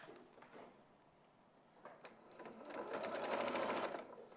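A sewing machine stitches around a stuffed fabric toy, quiet at first with a few clicks, then building into a steady, moderately loud mechanical whirr.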